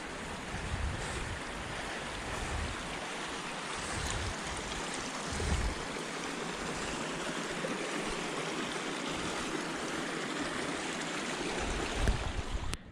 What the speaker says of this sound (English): a creek right there that seems to be coming from another spring up in that cirque